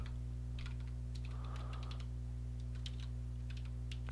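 Steady clicking of a computer keyboard being typed on, bursts of keystrokes over a constant electrical hum.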